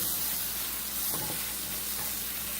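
Garlic and rice sizzle steadily in a hot pan, with a constant frying hiss and a couple of brief scraping stirs of a utensil against the pan.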